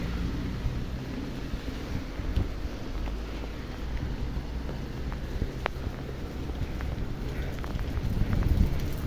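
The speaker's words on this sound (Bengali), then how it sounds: "এই বৃষ্টি আর থামবে না" Steady rain falls on a wet street, a constant broadband hiss with scattered patter and faint low rumble, continuous and fairly close throughout.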